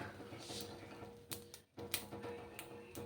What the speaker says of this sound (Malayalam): ദേ എള്ള് കഴുകിയത് അടുപ്പത്ത് വെച്ചിട്ട് ഇപ്പോൾ ദേ വറുത്തുകൊണ്ടിരിക്കുന്നതാണ്